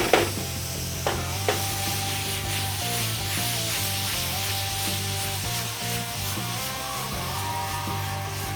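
Mango pieces cook and caramelize in a hot pan for a tropical burger, giving a soft, steady sizzle and occasional stirring scrapes that run beneath louder background music.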